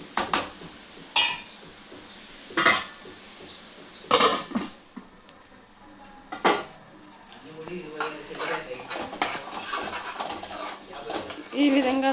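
A metal lid clatters down onto a pot of mint tomato chutney on the stove, one of several sharp clanks and knocks of cookware spread across the stretch, close and fairly loud with quiet gaps between.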